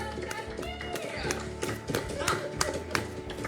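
A person clapping on a TV show, a run of sharp, uneven claps and taps over background music and talk.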